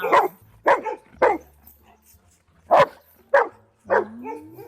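A dog barks in six sharp, loud bursts set close to one another, with a short gap in the middle of the sequence and a faint whine under the final bark.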